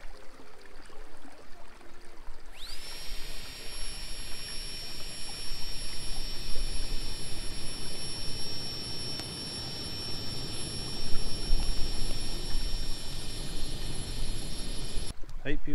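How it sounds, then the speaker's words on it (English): A flexi-tail fire pump blows air into an outdoor campfire on a chilly evening, a steady breathy whoosh with a thin whistling tone over the crackle of the fire, running for most of the stretch before stopping abruptly. "Time for the flexi-tail fire pump."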